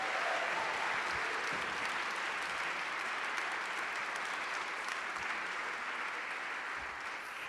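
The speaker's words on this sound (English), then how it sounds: "Let's give them all a round of applause." Sustained applause from a large audience at a protest gathering in New York City, dense steady clapping filling the whole stretch with no voices over it.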